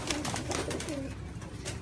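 Pigeons cooing on a rooftop in Gujrat, Pakistan, a run of soft, low, throaty coos repeating over steady outdoor background noise, fairly close.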